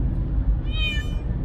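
A pet cat at a veterinary checkup gives a single drawn-out meow, moderately close, over a low steady room rumble.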